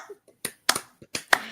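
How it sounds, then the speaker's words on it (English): Several sharp hand claps from a small group, spaced irregularly and close by, with a few quieter taps between them. "You guys are clapping."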